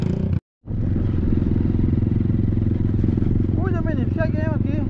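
A motorcycle on a dirt trail during a trail ride near Sapucarana and Bezerros, Pernambuco, gives a loud continuous engine drone that rises and falls as it passes. A brief dropout breaks it early, and voices talk over the end.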